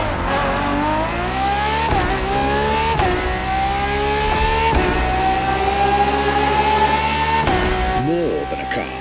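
A Ferrari FXX-K race car engine in the racing game The Crew Motorfest, loud and close, revving through climbing gear pulls with sharp shift breaks and a final throttle lift, while a narrating voice runs underneath.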